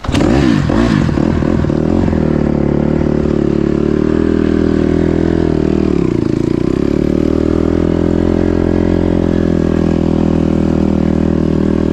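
A Honda CRF 150RB dirt bike engine is held at steady high revs, running continuously and loud up close with a brief dip midway; the engine is struggling with a low idle that dies out.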